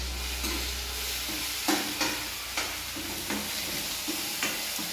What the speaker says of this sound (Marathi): थोडीशी हिरवी मिरची तळून घेते आणि आता थोडासा बटाटा पण टाकून घेते